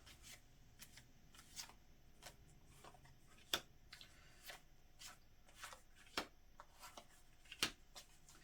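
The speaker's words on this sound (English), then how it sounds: "So you go ahead and think of your question while I lay the cards" Tarot cards laid out on a table one by one, soft irregular flicks and taps close up in a quiet room, with several sharper snaps among them.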